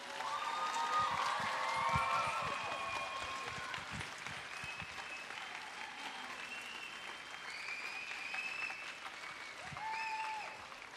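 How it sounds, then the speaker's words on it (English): Sustained audience applause at a Bharatanatyam arangetram dance recital, a dense wash of clapping from a large crowd that holds steady for the whole stretch with a slight swell near the end. "So get ready to clap louder than you've ever clapped before for Pradhanya!"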